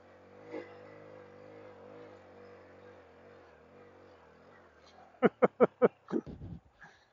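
A Honda Trail 125 CT125 motorcycle climbing a hill in first gear gives a low, steady engine drone. Near the end come several sharp, loud pops and thuds in quick succession.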